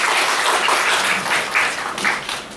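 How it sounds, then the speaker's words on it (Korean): A Korean church congregation at a full gospel church in Maui claps in thanks to God after a prayer, a loud, dense, continuous burst of applause with slight swells, dipping a little near the end. "하나님께 감사의 박수 드리겠습니다"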